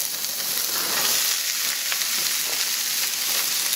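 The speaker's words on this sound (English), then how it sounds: "I'm going to go ahead and add the frozen green beans." Frozen green beans hit a hot pan of browning garlic, setting off a loud, steady, broadband sizzle that holds evenly throughout with no talking.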